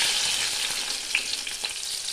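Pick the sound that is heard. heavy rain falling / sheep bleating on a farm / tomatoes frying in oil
tomatoes frying in oil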